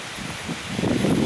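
Steady wind blowing against the microphone, a low rumbling buffet that swells louder toward the end, with faint rustling mixed in.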